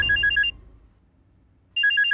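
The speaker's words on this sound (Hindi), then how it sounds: "पता नहीं कौन फोन कर। किसका फोन है?" Two bursts of an electronic phone ringtone, each a quick run of bright repeated tones, sounding loud and close at the start and again at the end with a quiet gap between, and no talking over it.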